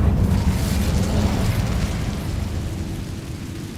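A fiery Incendio spell blast in the Hogwarts Legacy video game, heard as a loud, deep roaring burst that slowly fades over a few seconds.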